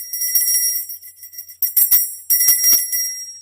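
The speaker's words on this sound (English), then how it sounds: "This is my fairy bell." A small handheld fairy bell used in a Druid setting rings in a few bright, tinkling bursts that shimmer and decay between strikes, clear and close against silence.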